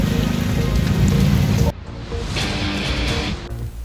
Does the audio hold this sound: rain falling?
yes